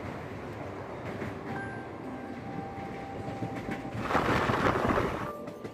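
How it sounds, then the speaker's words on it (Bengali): A passenger train in Odisha runs toward Brajrajnagar station with a steady rumble of wheels on track, growing louder and rougher near the end. "আমাদের ট্রেন এখন ঝড়ের বেগে ব্রজরাজনগর স্টেশনের দিকে এগিয়ে চলেছে"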